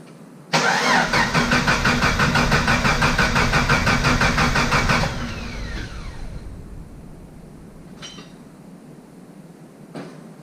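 A Scout with a swapped-in 4.0 engine cranks hard with the key for several seconds, a loud steady starter churn. It stops abruptly, leaving a low hum and a couple of faint clicks.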